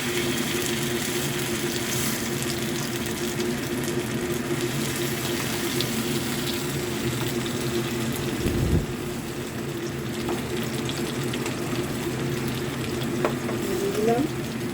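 Paste of onion, ginger, garlic, green chilli and tomato frying with potatoes in a pan for an egg and potato kosha: a loud, steady close sizzle with a brief louder surge midway.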